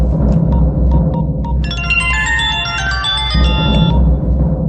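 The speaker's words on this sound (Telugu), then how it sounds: "बज रहा फोन, बात करेंगे." A mobile phone rings during a scene in a Telugu action thriller film, giving a bright, melodic electronic tone pattern for about two seconds over a steady low background rumble.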